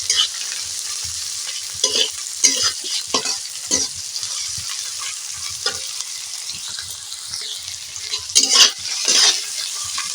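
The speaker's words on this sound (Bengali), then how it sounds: "টমেটোটা যতক্ষণ একটু গলা গলা হচ্ছে আমি ততক্ষণ নাড়তে থাকবো" Tomatoes frying in a pan with soybean and green chilli, a continuous hissing sizzle with frequent scraping stirs of a spoon against the pan, close by and without speech.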